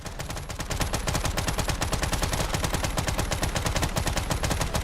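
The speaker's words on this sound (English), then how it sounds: "if I had enough SMG rounds, I could do this, because I have a never-ending SMG here" A submachine gun in Fallout 4 fires in one unbroken, rapid automatic burst of sharp, evenly spaced shots that runs loud and steady for about five seconds.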